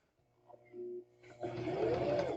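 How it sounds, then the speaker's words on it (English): A sewing machine stitching a quilt seam: a soft hum first, then a steady, louder whirring run of stitching close by, with no talking. "Then we're going to sew the seam, okay?"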